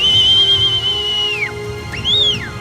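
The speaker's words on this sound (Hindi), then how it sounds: "लोकल लोगों ने सीटियां बजाकर लोगों को एवलांच की जद में आने से अलर्ट कर दिया।" Locals in Sonamarg, Jammu-Kashmir, blow whistles to warn people of an avalanche: a loud, sustained high whistle tone followed by a short rising-and-falling whistle, heard close and alone.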